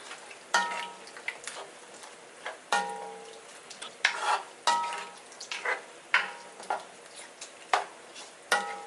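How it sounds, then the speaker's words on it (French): Crushed garlic being stirred in a cooking pot for couscous, with a spoon scraping and knocking against the metal in a steady rhythm of sharp clinks over a faint sizzle. "Nous allons remuer tout ça"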